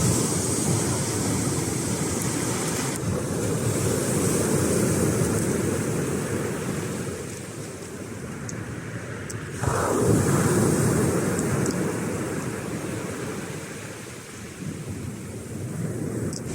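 Surf of the warm Antalya sea breaking steadily on the shore, a broad rushing wash with wind buffeting the microphone, one stronger wave surging in midway, no voices.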